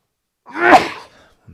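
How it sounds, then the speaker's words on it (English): One sudden human sneeze, close and fairly loud, with a breathy build-up, then quiet. "I gotta sneeze."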